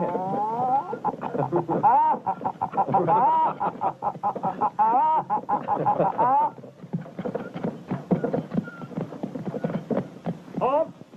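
A man imitates an old hen's clucking with his voice, a run of rhythmic, reedy cluck-like calls for several seconds, then rougher voice and noise follow; loud and close, with some talk around it.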